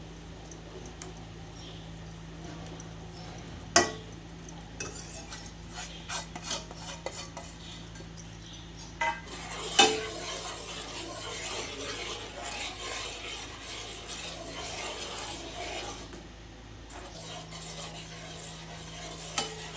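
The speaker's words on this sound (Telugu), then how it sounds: "ఇప్పుడు నీళ్లు మరుగుతున్నప్పుడు రవ్వ కొంచెం కొంచెంగా వేసి కలుపుకోవాలండి" Semolina is stirred into boiling water in a cooking pot for coconut rava kesari, with a quiet, irregular run of spoon scrapes and metallic clinks against the pot and a few sharper knocks.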